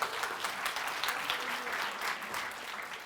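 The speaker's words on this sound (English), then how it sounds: "Can we give this lady a round of applause," Audience applause at a national education conference, a steady burst of many hands clapping that holds for about three seconds and eases slightly at the end.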